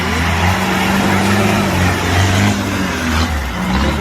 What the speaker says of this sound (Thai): เราต้องใช้รถยนต์